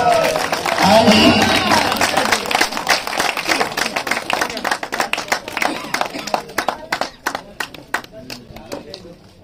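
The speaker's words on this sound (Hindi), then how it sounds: "जी जोरदार तालियां आपका मुल्क मशहूर सैयद अली अब्बास शाह तशरीफ" Loud, sustained applause and clapping from a crowd at a cricket tournament prize ceremony in Punjab, thinning into scattered individual claps toward the end, with voices audible underneath.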